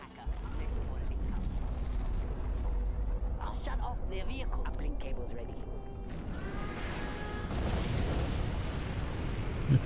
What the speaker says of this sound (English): Let's nuke them here.